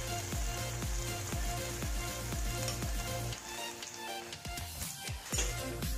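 Suji bread toast frying in a hot pan, with a busy continuous sizzle and crackle running throughout, steady and close, with a brief dip in the middle before the frying noise picks back up.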